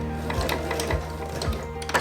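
A sewing machine stitches a seam on a baker boy cap, its needle thumping in a quick, regular mechanical rhythm close by over a low motor hum.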